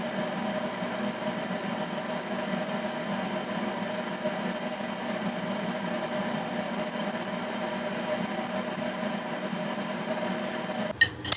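A 2-inch belt sander shaping a Damascus knife, a steady motor hum with a continuous grinding drone at moderate level, ending with a few sharp knocks.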